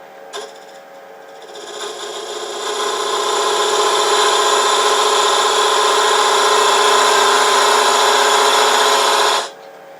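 A wood lathe cutting into a turned wooden box: a loud, steady tonal whir rises and holds as the tool bites in, then stops abruptly near the end, with no talk.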